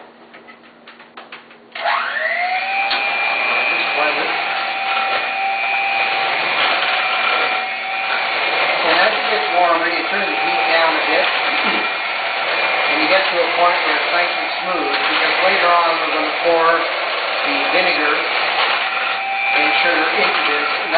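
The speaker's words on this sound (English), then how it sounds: "And the best thing to do is to use a blender." An electric blender whirs up sharply and holds a steady high whine while blending a sauce for perch rolls, with a voice talking over it throughout.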